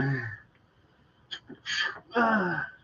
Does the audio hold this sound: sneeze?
yes